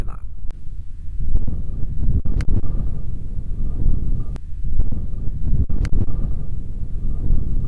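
Wind blows across an open golf course, a steady low rumbling buffet against the microphone that swells and eases, with a few sharp clicks and a faint high tone; someone speaks over it.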